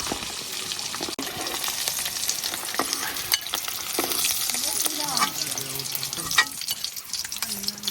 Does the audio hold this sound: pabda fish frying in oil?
yes